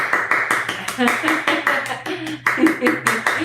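Church congregation clapping for God during a Spanish-language sermon, a fast rhythmic patter of many hands beating in time, fairly loud and close, mixed with singing or voices underneath.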